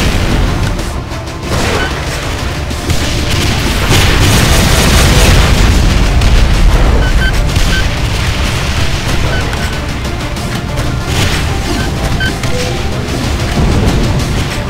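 Rocket explosions from the game Doom boom continuously and loudly, one blast rolling into the next in a dense, heavy barrage with no pause and no voices.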